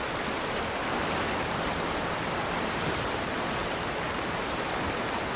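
A waterfall in the video game Avowed pours as a steady, dense rushing hiss that fills the whole stretch at an even loudness, with no voices over it.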